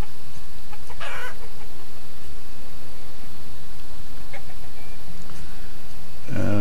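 Chickens clucking in the village-building game Banished, soft intermittent clucks over a steady ambient game background, with a couple of brief louder bursts near the start and end.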